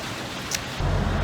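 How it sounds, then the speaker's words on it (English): Rain falls at a picnic area, a steady close hiss of drops that thickens into a heavier, fuller wash partway through. "and it is raining."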